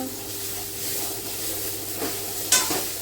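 Chopped vegetables with capsicum sautéing in a pan: a continuous close sizzle and hiss with occasional stirring scrapes, including a sharper clink near the end, with no talking.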